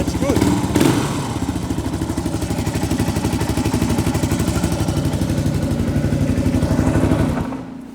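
A restored 1990 Suzuki DR650 R Dakar single-cylinder motorcycle idles close by with a steady, loud thumping exhaust note through its muffler, settling and cutting off near the end.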